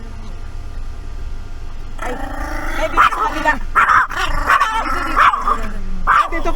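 A dog at a lake farm resort in Pantabangan, Nueva Ecija barks and yips repeatedly, close and fairly loud, mixed with whimpers while a person speaks briefly nearby.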